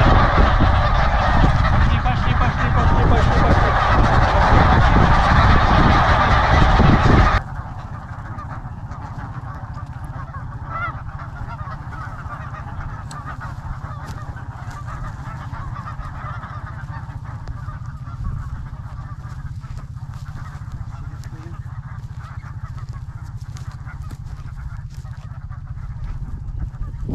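A large flock of geese on Wrangel Island in the Arctic honking loudly and densely while being herded into an enclosure, then the clamor drops sharply to a quieter, continuing chorus of scattered honks.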